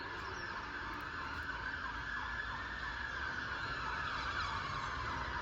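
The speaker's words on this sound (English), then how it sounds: "Fire engine, I think." A fire engine siren wails steadily in the background, passing at a distance through a sustained wash of noise around a garden vegetable plot, with no talk.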